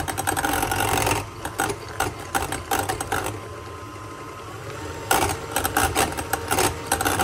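Electric hand mixer beating butter for a walnut cake, whirring loudly and then stepping up in speed, its motor buzzing steadily and pausing briefly midway.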